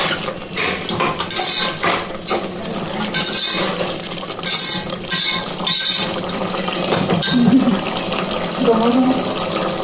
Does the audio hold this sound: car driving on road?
no